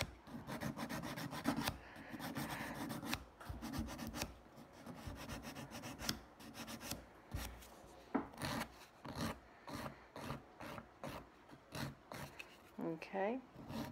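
A nail file rasps back and forth over the tops of dip powder nails to level them, giving short repeated scraping strokes, fairly close, with a voice talking at times over the filing.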